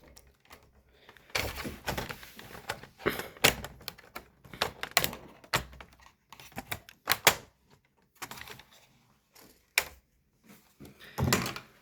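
A keyboard being removed from an upgradable Dell laptop gives a series of sharp plastic clicks, snaps and taps, close and irregular, with quiet gaps between bursts and no speech.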